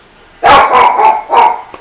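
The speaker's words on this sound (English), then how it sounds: "It don't take her long before she starts to bark." A dog barks loudly and close by, three or four bursts in quick succession with a short yip at the end, alone without talk.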